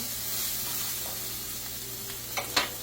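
A little flour goes into a hot pan of seared beef, which gives a loud, steady close sizzle, then two quick spoon scrapes near the end.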